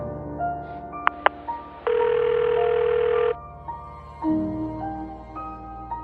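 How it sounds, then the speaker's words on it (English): A phone is picked up and dialed in a horror story: short keypad beeps, then a sustained dial tone lasting over a second, followed by more tonal beeps and a low hum, close and clear. "I pick up my phone."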